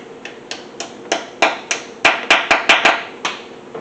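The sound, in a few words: hammering alignment dowels into iron engine block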